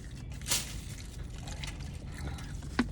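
Water is poured to wash hands after eating inside a car, giving a brief splashing gush followed by soft trickling and a small drip near the end, with no talk.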